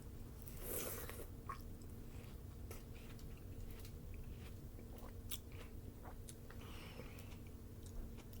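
Someone bites into and chews watermelon close up, with soft wet crunches and squishy chewing repeating steadily throughout.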